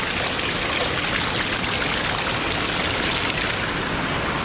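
A loud, steady rush of water, carrying some sand, pours forcefully and continuously from a pipe, a dense unbroken roar close by with no pauses.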